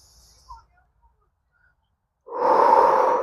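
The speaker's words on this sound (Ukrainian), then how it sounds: "Вдих, видих, розслабили." A person takes a deep breath during a shoulder exercise. Near silence is broken by a faint catch of breath, then a loud, rushing, sustained exhale close to the microphone.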